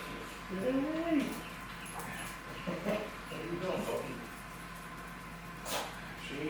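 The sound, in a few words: dog whimpering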